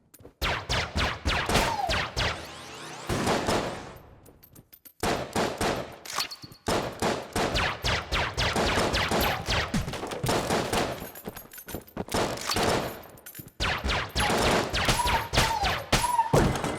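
Enemies in a video game fire bursts of bullets in rapid, machine-gun-like volleys, loud and close, broken by brief pauses and continuing almost throughout.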